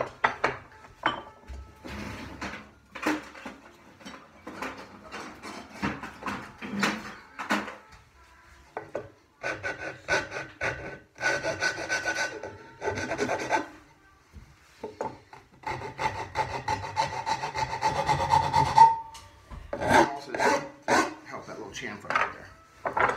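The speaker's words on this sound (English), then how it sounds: "I'm going to do that with a file." A hand file rasps across a wooden apron tenon in repeated short strokes, a close scratchy scraping that comes in clustered bursts with brief pauses between.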